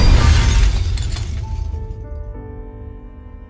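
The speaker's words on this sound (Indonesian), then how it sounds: "Suara pecahan gelas itu langsung mengalihkan Andromalius." A dropped drinking glass shatters loudly and close, a burst of breaking glass followed by tinkling shards and a ringing tail that fades out.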